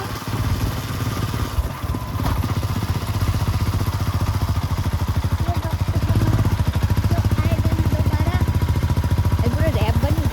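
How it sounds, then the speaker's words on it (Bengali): Two riders on a motorcycle moving through a forest in the rain, the engine's loud, rough drone rising in the second half, with rain hiss and occasional voices underneath. "বৃষ্টির মধ্যে কোনো জঙ্গলের মাঝখান দিয়ে দুজনে বাইক নিয়ে যাচ্ছি"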